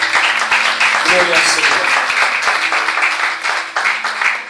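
Church congregation applauding during a Spanish-language sermon, a steady wash of clapping with a voice calling out over it throughout.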